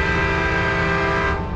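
An Amtrak Silver Meteor passenger train, running from New York to Miami, sounds a loud, sustained horn chord that holds steady close by and eases slightly at the end.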